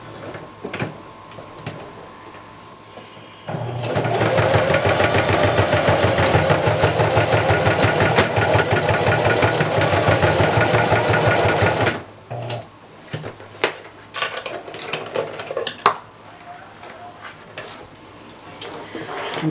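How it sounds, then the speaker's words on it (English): A sewing machine runs loud and close for about eight seconds, stitching back and forth across a strap on a vest kit, followed by scattered handling clicks and rustles. "We're going to just sew back and forth about 3 times."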